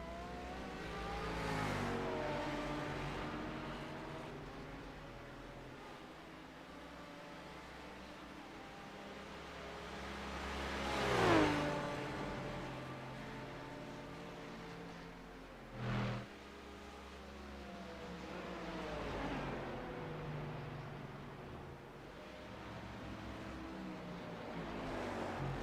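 GT race cars at speed on the Canadian Tire circuit: engines rise and fade as cars pass at varying distances, with two sharp close pass-bys standing out over a continuous wash of distant track noise.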